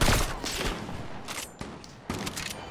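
Gunfire in a Roblox shooter, with sharp bursts of shots at the start and again after the midpoint over a steady noisy game backdrop; the shots come loud and close.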